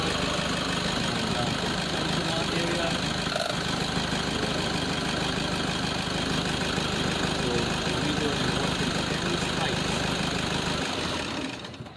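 A car engine idles with a steady, even rumble and faint ticking knock for about eleven seconds, then drops away at the very end; a diagnostic check for vehicle noise using a knock sensor.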